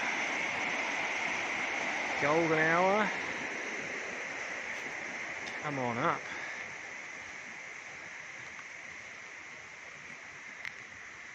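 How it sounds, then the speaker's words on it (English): The river flows steadily beside the Mangatainoka hot springs in Kaweka Forest Park as a constant broadband rush, while someone speaks briefly over it and a bird calls twice. "That's the river."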